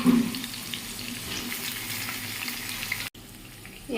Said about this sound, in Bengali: এরপর বেগুনগুলো দিয়ে একটু ভালো করে নাড়াচাড়া করে নেব